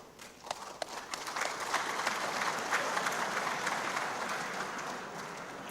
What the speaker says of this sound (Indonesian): tepuk tangan meneh.